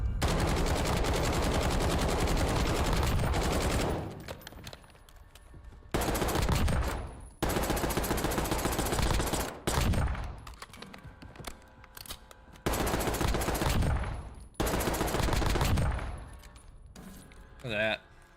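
AMAX assault rifle fire in the Warzone video game: several dense bursts of rapid automatic shots, loud and close, separated by short quieter gaps.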